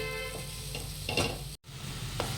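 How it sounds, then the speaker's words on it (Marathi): Grated coconut and jaggery filling for steamed modak stirred in a hot pan, a continuous low sizzle broken by a few scraping spoon strokes and one brief dropout, no talking. "आता गुळ वितळेपर्यंत त्याला छान मिक्स करून घ्यायचं आहे"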